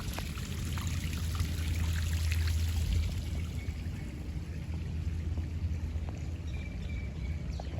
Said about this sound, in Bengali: সামনে সুন্দর একটা ঝর্ণা, পাথরের উপর থেকে পানি পড়তেছে